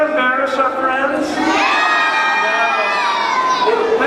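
Loud, continuous cheering and shouting from a crowd of children at an elementary school anti-bullying magic show, excited voices overlapping throughout with rising whoops.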